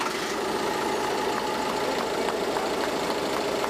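A farm tractor's engine runs at a steady idle with a rapid, even knocking beat, fairly quiet and alone, with no talking.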